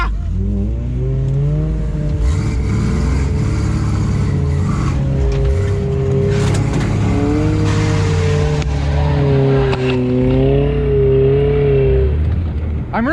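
A truck pushes another truck stuck on a slushy snowy back-country trail, engines droning and revving loudly with rising and falling pitch and spinning tires, heard close and continuous with no voices.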